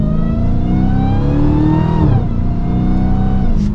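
Dodge Challenger SRT Hellcat Redeye accelerating hard from inside the cabin, a loud, continuous engine roar rising in pitch, dipping briefly at a gear change and then climbing again.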